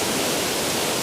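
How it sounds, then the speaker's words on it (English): Roar of a waterfall near a cave in Scotland, a dense, loud, unbroken rush of falling water with no voices. "Hopefully you can hear us over the sound of the waterfall"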